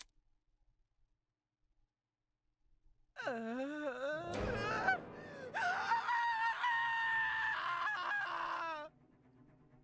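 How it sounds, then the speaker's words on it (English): A character in a video game lets out a loud, long, wavering scream after a few seconds of near silence, with a break in the middle before the scream continues and cuts off sharply. "Kai's scream rang out loud and clear in my ears"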